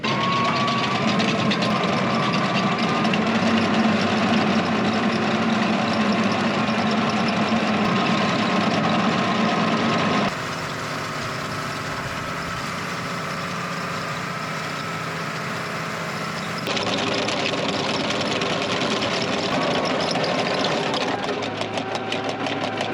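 The engine of a rotary harrow and decompactor runs steadily while it works manure into a vegetable garden. A loud, continuous mechanical drone with a rattling knock dips briefly in level midway and then returns.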